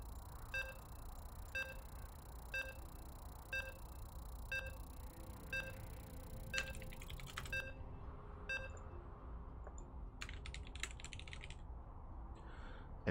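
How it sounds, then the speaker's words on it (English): A series of short, regularly spaced electronic beeps sounds as casters enter a StarCraft tournament match, faint and repeating about every second over a low steady background hum, with scattered clicks toward the end. "And you can hear the beep, so you're jumping in to Dark versus Oliveira."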